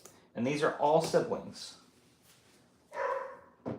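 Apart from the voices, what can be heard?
dog barking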